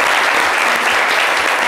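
An audience applauds loudly on a French radio show, a dense, continuous burst of many hands clapping close by, steady throughout the short stretch.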